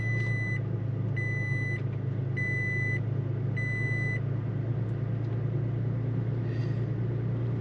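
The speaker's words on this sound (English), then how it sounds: "we're going to want to let the engine run for a minute" Car engine idling steadily after an oil change, a low constant hum close by, with four evenly spaced electronic chimes from the dashboard early on.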